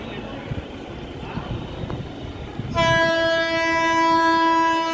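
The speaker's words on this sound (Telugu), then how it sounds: "ఏదో ట్రైన్ వెళ్తుంది" Rumbling train noise at Ayodhya railway station gives way to a loud, sustained train horn blaring nearby, with voices under the rumble at the start.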